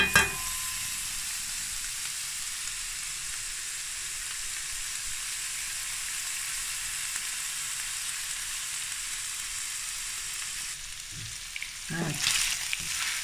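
Pork sizzles and fries steadily in a pan with bagoong shrimp paste for pork binagoongan, a continuous crackling hiss that shifts briefly near the end as the mixture is stirred.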